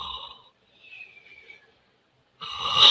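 A man imitates loud snoring with his voice, giving a couple of raspy, breathy snore sounds separated by a short silence and ending in a harsher, louder snort.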